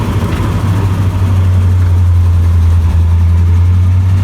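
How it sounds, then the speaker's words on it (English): A Jeep Willys 6x6 fitted with a 1930s Flathead Ford V8 runs at a steady, loud idle close by, its low rumble continuous and even, with no voices over it. "That is a Flathead Ford V8 from the 30s."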